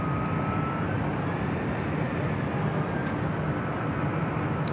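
A Cathay Pacific Boeing 777 at Los Angeles International Airport gives a steady, broad jet engine roar that holds level throughout, with a faint high whine running over the rumble.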